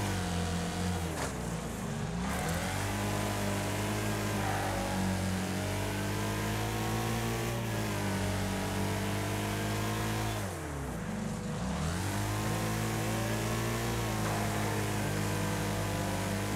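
Racing car engines in Wreckfest, including a Boomer RS, roaring together in a continuous loud drone, with pitch rising and falling as the cars shift gears and accelerate through the race.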